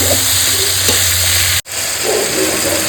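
Tomatoes for a Bengali gurjali fish curry cook loudly in a pan, giving a dense, unbroken sizzle and hiss close by, with one split-second dropout.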